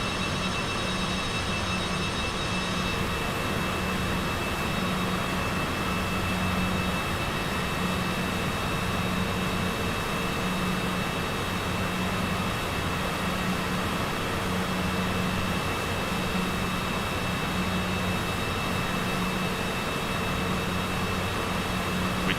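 A Cessna Citation CJ4 business jet taxis in Microsoft Flight Simulator 2024, giving a steady, loud turbine whine and broadband roar that hold evenly throughout with no voices.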